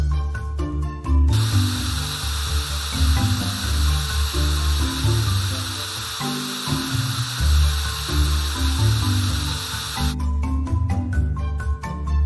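A water spray hisses steadily while an off-roader truck is washed in a kids' game, starting after a short musical intro and stopping near the end over cheerful background music.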